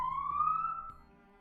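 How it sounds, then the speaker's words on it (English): A police car siren sounds outside in one short rising wail lasting about a second, steady and fairly loud before cutting off. "They just like turn on their sirens for like a second."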